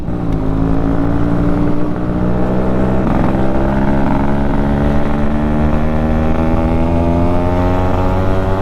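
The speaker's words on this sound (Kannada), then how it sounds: "ಮಫ್ಲರ್ ಸೌಂಡೇ ಬೇರೆ" A Yamaha RXZ two-stroke motorcycle, stock 5-speed, runs steadily nearby, its muffler giving a loud, buzzing, even drone that holds constant throughout.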